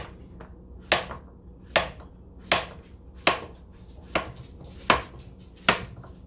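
A kitchen knife chops the ends off vegetables on a cutting board while preparing salmon patties: about eight sharp, close knocks at a steady, unhurried pace, each standing alone against a quiet room.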